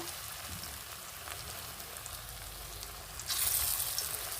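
Malabar spinach fritters dropped one by one into hot oil on a lowered flame, a steady soft sizzle and crackle throughout that swells louder near the end, with no voices.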